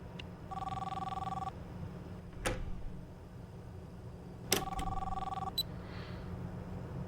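A phone rings twice in the POPGOES horror video game, each electronic trill lasting about a second, with sharp clicks in between over a low steady background hum.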